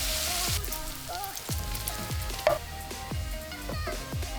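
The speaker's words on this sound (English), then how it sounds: "we need to get the bacon in the pan and fry off to make it nice and crispy" Bacon crisping in a hot pan, a dense steady sizzle with crackle and pops, punctuated by repeated short scraping strokes roughly every half second, close and fairly loud with no voices.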